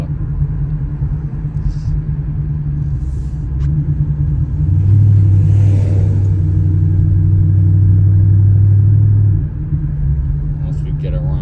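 A Ford Mustang GT's engine rumbles low and steady from inside the car while driving in the rain, swelling into a stronger sustained drone midway before settling back, with no talk.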